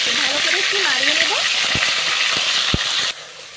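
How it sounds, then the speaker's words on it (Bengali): Burnt ground masala paste sizzling loudly in hot oil for burnt masala chicken, steady crackling frying with a few sharp spoon clinks as it is stirred, the sizzle dropping off abruptly near the end. "এই পোড়া মশলাটা আমি দিয়ে দিচ্ছি। ভালো করে একটু নাড়িয়ে নেব।"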